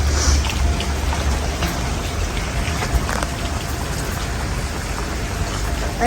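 Steady light rain in Japan patters evenly on leaves, grass and surfaces, close and continuous, with no voices.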